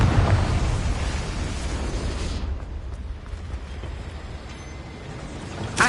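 A loud blast from a Confringo spell in Hogwarts Legacy, a wizarding-school video game, booms at the start, then a rumbling roar trails off and slowly fades, with a sharp crack at the very end.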